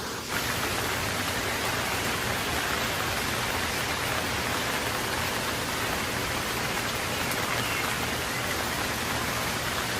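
Steady heavy rain pours down without a break in a cartoon scene, a dense even hiss that stays loud throughout with no other sounds.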